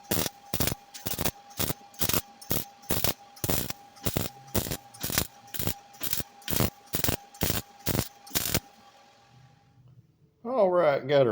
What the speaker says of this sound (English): so it's time to start welding it in